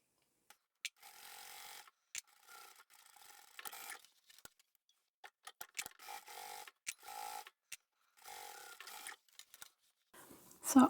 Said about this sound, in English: So I'm just going to sew right along the edge there.